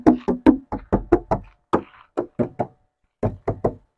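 Car doors on a 1992 Isuzu Panther 2.3 are shut over and over at a showroom, giving a quick series of sharp, close thuds in uneven bursts with short pauses between them.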